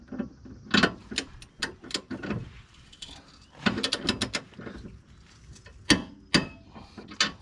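A torque wrench and ratchet tightening Class 1 trailer hitch bolts on a 1-1/4-inch receiver set to 59 foot-pounds, giving sharp, close metallic clicks in irregular bursts with short pauses between.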